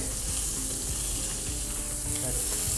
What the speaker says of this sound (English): It's already nicely kind of seared a little bit, which we need. So we sear it on all sides.